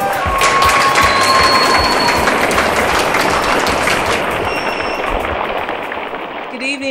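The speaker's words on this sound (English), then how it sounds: "a round of applause to Miss Rivers once again" Dense, loud applause fills a Miss Nigeria pageant hall, steady clapping from a large audience that tapers toward the end with a little chatter underneath.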